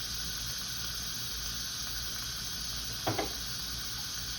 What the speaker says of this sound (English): I'm gonna let this steam release here.